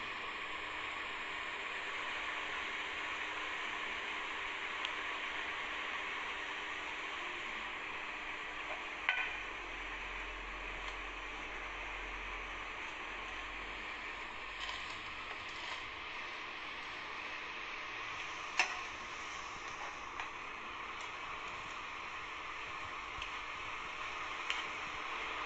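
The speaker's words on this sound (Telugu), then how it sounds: "ఒక కడాయిలో వేసి కాసేపు దాన్ని వేగిస్తాం" Chicken pieces frying in a kadai, a steady close sizzle and hiss with a few faint ticks and clicks of stirring, low and even throughout with no voices.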